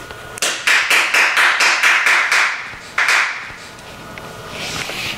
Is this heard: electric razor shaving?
no